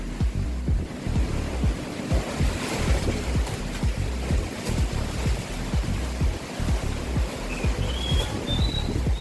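Strong storm wind buffets the microphone with continuous roaring gusts and thumping bursts, mixed with a steady rushing noise like surf, loud and close throughout with no voices.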